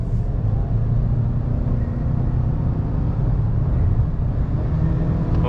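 A 2022 Ford Maverick XLT with its 2.0-liter engine and AWD pulls hard under acceleration, a steady low engine rumble with road noise heard from inside the cabin, no talk.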